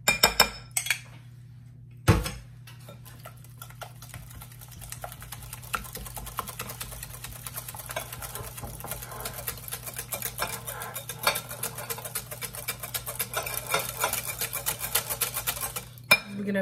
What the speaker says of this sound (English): Mix this well till it's nice and incorporate it.